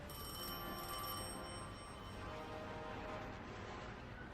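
In a video game, a telephone rings with a steady electronic trill, fairly faint and sustained over several seconds, and no one talks over it.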